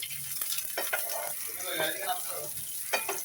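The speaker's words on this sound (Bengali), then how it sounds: "একটু ভেজে নিতে হবে কিশমিশ" Raisins, nuts and cinnamon frying in a pan while cooking semai, a soft sizzle with occasional stirring scrapes and clinks, fairly quiet and steady throughout.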